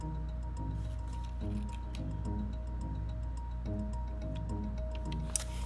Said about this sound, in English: We're going to mix this batter not very long, just for a little bit